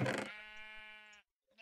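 A single drawn-out sheep bleat from a Minecraft-style video game, close and clear, following a short burst of noise and ending in near silence.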